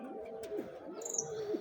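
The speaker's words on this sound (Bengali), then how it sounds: "এই যে আমার বোম্বাই কবুতর এখানে বসে বসে রাগ গুসা উঠাইতেছে" A Bombay pigeon coos softly among other pigeons, two low rolling coos with a faint chirp in between, quiet and close, no voices.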